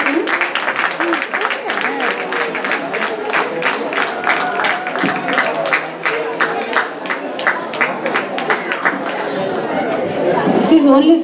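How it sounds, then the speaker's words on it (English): Audience applause greeting a HATCC Tamil class at a community event: steady rhythmic hand claps run throughout beneath lively crowd chatter, growing slightly louder near the end. "give them a big round of applause"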